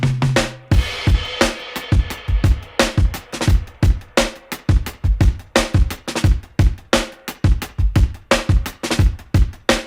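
A loud, punchy drum break with a deep 14x6.5 Ludwig snare cracking over a busy kick pattern, steady groove and sharp repeated hits throughout, no voices.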